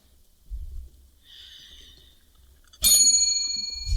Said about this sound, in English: That bell is weak.